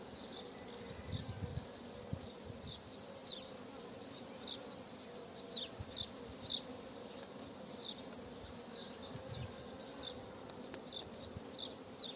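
Honeybees buzzing around an opened hive with its third box added and honey ready, a steady outdoor hum with scattered sharper passes of individual bees flying close.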